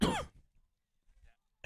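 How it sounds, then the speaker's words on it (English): A single sharp cough is caught on a live broadcast microphone at a high school softball game. A brief faint rustle follows, then near silence. "Coughing right on the air"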